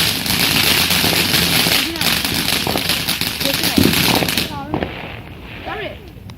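A fireworks rocket goes off on bonfire night outdoors amid a dense, continuous crackle of distant bangs and pops that thins out near the end, with voices talking over the noise throughout.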